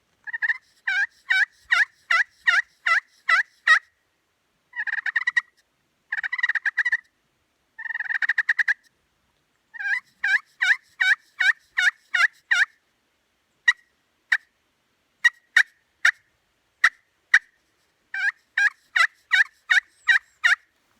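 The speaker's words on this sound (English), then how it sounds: "in order to make the call, you're going to just make little circles. That's going to be your little yelp." A slate pot turkey call rings out in sharp, rhythmic series of yelps, clear and close, grouped in quick runs separated by short pauses, with no talking.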